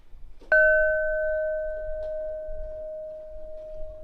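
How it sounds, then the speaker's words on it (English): A single bell is struck once, ringing with a clear sustained tone that slowly fades over several seconds, close and alone against a quiet room. "Let's have the bells to cancel out the hammering."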